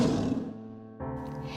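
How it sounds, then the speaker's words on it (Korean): Lions growling angrily as an audiobook sound effect, a deep rough roaring growl that fades and then resumes in a second lower, sustained snarl, close and alone with no speech. "와니니와 잠보는 분노에 찬 소리로 으르렁거렸다"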